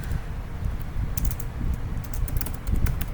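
Code being typed on a computer keyboard, bursts of quick light key clicks over a low steady hum, close and moderately loud with no talk.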